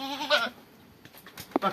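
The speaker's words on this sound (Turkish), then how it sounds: "senin o keçi seni çağırıyor bak" A goat bleats loudly and close by in a wavering cry near a pen, then after a short lull with faint rustles, another bleat starts.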